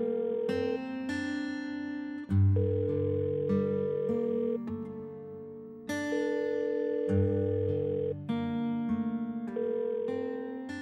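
A looping electronic melody plays in clean, sustained tones, repeating a short tune like a phone's ringback music while waiting for an answer.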